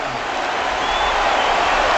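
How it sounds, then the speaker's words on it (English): Home crowd at a Green Bay Packers NFC playoff football game against the Atlanta Falcons, a steady, broad stadium roar sustained throughout at moderate loudness, with no distinct voices standing out. "finally, something to cheer for the home crowd"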